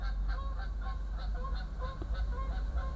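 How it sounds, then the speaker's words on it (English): Geese honk repeatedly overhead, a steady series of calls over a low rumbling background with no voices. "Some geese going over."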